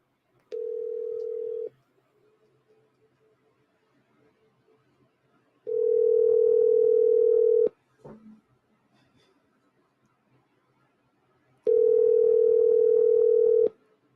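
A telephone ringback tone sounds while a call is placed, in three steady buzzing bursts of about one to two seconds each, separated by long quiet gaps with faint background noise.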